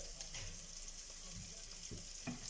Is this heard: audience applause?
no